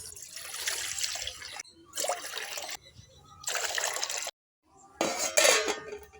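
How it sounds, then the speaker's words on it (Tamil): Water poured onto rice in a cooking pot while making drumstick-leaf porridge in a village kitchen, with close trickling and splashing in several bursts, some metal pot clatter and brief pauses between pours. "அரிசிக்கு அளவான தண்ணி ஊற்றிக்கலாம்"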